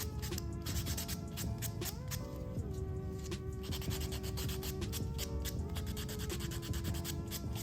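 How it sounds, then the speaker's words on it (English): A nail being buffed in quick, rapid back-and-forth rubbing strokes, faint and continuous, over a quiet tonal background. "so I'm just gonna do a quick little buff"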